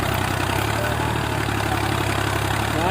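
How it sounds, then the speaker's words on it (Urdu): A tractor engine runs steadily in a village field, a continuous low rumbling idle with a mid-range chug that holds even and loud throughout, with no voices. "دیکھیں کتنا اس کا زور لگ رہا ہے ٹریکٹر کا"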